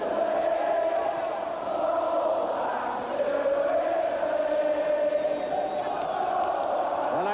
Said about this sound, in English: And now the crowd singing